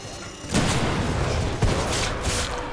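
Gunfire in the Titanfall 2 campaign, dense and continuous from about half a second on, with a few sharper heavy bursts standing out over a steady rumble of combat noise.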